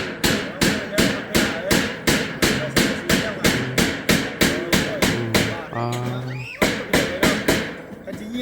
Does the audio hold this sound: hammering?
yes